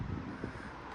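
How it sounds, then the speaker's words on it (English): Wind buffets a microphone outdoors in a short, dense low rush that holds steady and loud throughout, with no voices. "it's windy."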